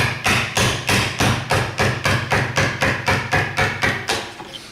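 Steel chisel driven by a mallet into wood while cutting a corner bridle joint in furniture making, about fifteen sharp, evenly spaced thuds in a steady rhythm, close and loud.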